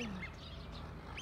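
Wild ducks call out of doors in Kochi, Japan, with a few faint, brief quacks spread over a second against soft background noise and no talking.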